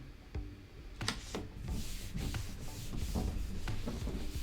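Cardstock is peeled from its protective backing and pressed onto a Cricut Joy cutting mat, making close, dry rubbing and smoothing sounds with a few light taps and crinkles, steady and moderately loud with no talking.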